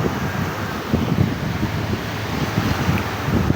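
Sea waves roll onto a litter-strewn beach after a storm while strong wind buffets the microphone, a constant roaring rumble with low surges of surf and no talking.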